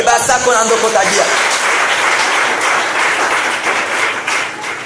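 Church congregation applauding, a loud, full burst of clapping that starts right after a voice at the beginning and holds steady before easing slightly toward the end.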